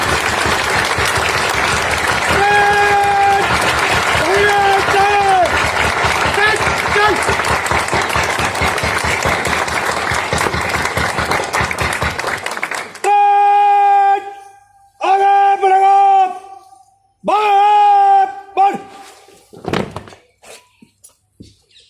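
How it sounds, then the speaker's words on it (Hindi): Audience applause at a Republic Day celebration parade in Dehradun: sustained, dense clapping that later breaks into shorter bursts separated by pauses, with a voice speaking over parts of it. "ताली बजा करके हौसला बढ़ाएं।"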